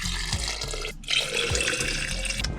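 Filtered water runs steadily into a jug aboard a narrowboat, a continuous close splashing stream with a brief pause near the middle before the flow resumes.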